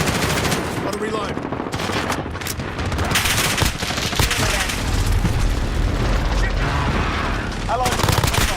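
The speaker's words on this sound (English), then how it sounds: "Enemy precision airstrike. Take cover." Modern Warfare 2019 multiplayer battle with a precision airstrike: continuous loud gunfire and rapid machine-gun bursts layered over booming explosions and rumbling impacts, dense and unbroken throughout.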